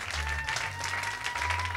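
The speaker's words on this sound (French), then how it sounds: "Qui a dit Amen avec des acclamations?" Church congregation applauding and cheering together, a steady dense wash of clapping with whoops over low organ or keyboard tones, loud and continuous throughout.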